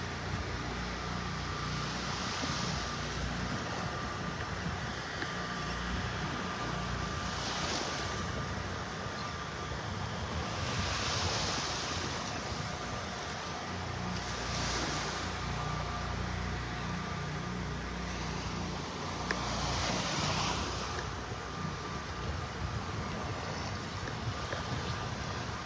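Steady surf and wind roar on Vanderbilt Beach in North Naples, Florida, a dense continuous wash with broad swells of waves breaking every few seconds, fairly close, with no voices.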